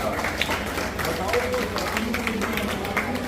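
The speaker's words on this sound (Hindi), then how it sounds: "जोरदार तालियों से स्वागत कीजिए श्री प्रियांक सिंघल जी का" An annual day function audience claps in a dense, continuous burst of applause, fairly loud and close, with a faint murmur of voices mixed beneath it.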